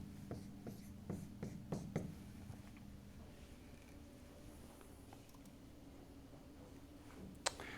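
Marker or chalk writing on a board during a physics lecture, a series of faint quick taps and strokes early on, then quiet room tone with one sharp click near the end.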